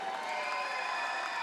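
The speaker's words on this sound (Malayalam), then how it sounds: "എല്ലാവരും നല്ലൊരു കൈയടി കൊടുത്തേ." An audience at the KKCA 2025 gathering in Kuwait gives the chief guest a round of applause, a steady, dense wash of clapping mixed with faint cheering that holds evenly without a break.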